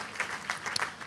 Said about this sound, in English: I think you guys need to give yourselves a round of applause for even being here.